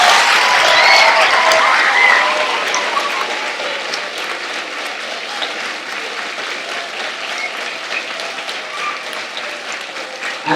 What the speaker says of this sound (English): Let's give Matt a really big round of applause and say thank you.